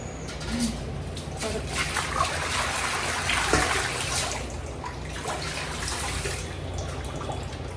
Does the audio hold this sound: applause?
no